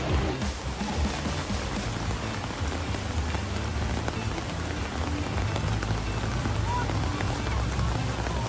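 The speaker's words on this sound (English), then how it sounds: "I was wrong, the rain has not stopped." Heavy rain pours steadily onto a street in Bangkok's Chinatown, a dense continuous hiss with scattered splashes and no letup.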